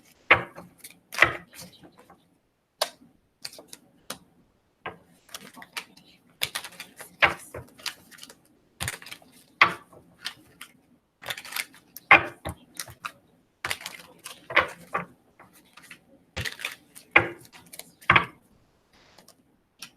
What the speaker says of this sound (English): bear with me while I try to shuffle these cards